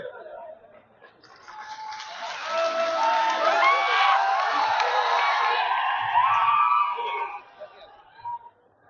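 A large crowd at a political rally in hot weather cheers, whoops and shouts loudly and steadily for several seconds, swelling in the middle and then easing off, with voices blending into one dense roar.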